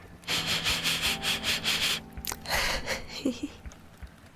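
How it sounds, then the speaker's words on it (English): Close-up ASMR sniffs come in a quick, rhythmic series of sharp nasal bursts, followed by a short pause and softer rustling and breathy sounds near the microphone. "And a couple sniffs."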